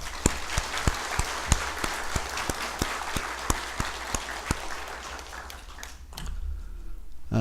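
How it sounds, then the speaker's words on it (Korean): A church congregation applauds: brisk, evenly spaced claps ring out over a soft wash of clapping, thinning out and fading near the end. "그 이무열 목사님을 위해서도 감사의 박수 부탁드리겠습니다."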